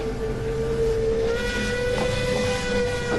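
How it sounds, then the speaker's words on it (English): A steam engine whistle sounds as the locomotive draws near a bridge at night, a sustained high tone riding over steady hissing steam and rail rumble, fairly loud and with no talk. "The engine whistled again"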